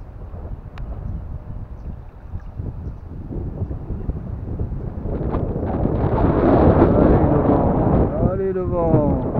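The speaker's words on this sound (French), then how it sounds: "Le vent." Gusty wind rumbles against the microphone while fishing in Ariège, building louder toward the end, with a voice speaking briefly over it in French.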